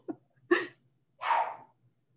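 A dog gives a few short barks and a huffing, breathy woof indoors, separate bursts with quiet gaps, fairly close.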